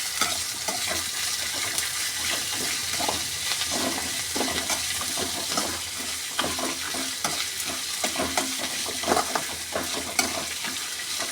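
Kadikoorka leaves are sautéed in a pan with coriander and curry leaves, giving a steady, close sizzle and crackle of frying with stirring scrapes throughout, no voices.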